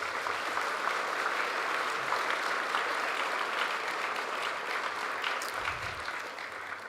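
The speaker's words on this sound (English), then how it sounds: "Would you give them a round of applause today?" Sustained applause from a large crowd at a graduation ceremony, thick and even clapping that fills the space for several seconds before tapering slightly.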